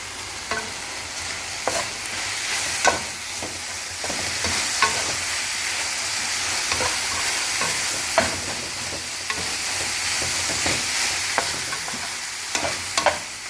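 Onions and garlic fry in a pan with a steady, close sizzle while a utensil stirs them, giving repeated scraping taps through the whole stretch.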